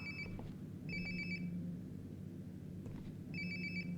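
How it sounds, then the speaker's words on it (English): A phone rings in Life is Strange: Before the Storm: three bursts of an electronic trill, evenly spaced, moderately loud over a low ambient game background, with no talk. "Sounds like my phone is definitely nearby."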